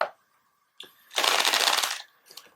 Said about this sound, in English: Here's my shuffling again.